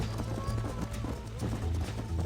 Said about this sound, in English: I think you chose the wrong horse, Miss McFarland.